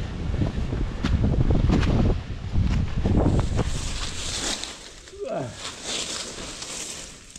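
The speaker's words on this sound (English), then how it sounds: "And this wind is blowing now." Wind gusts across a steep winter trail in Harriman State Park, a loud blustery rush buffeting the microphone in waves, easing toward the end, with a person talking over it.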